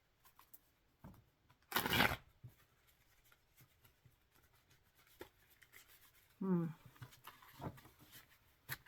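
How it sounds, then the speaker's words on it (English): Tarot cards shuffled by hand in a short, crisp riffle burst lasting about half a second, followed by quieter handling rustles, with a brief vocal sound later. "Not every shuffle is perfect."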